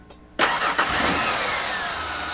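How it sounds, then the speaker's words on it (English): A 1996 Ford Explorer engine cranks briefly and catches with a loud close roar, then settles into a steady idle. "First thing we need to do is go ahead and start the vehicle up."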